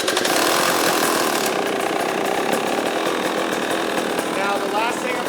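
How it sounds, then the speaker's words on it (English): A TPI two-stroke dirt bike engine runs steadily at a fast idle with the choke out as it warms up, a loud, continuous buzzing drone that holds for several seconds with no pauses. "this is a TPI bike, so it's always important to start it with the little choke knob out and let this thing warm up very thoroughly"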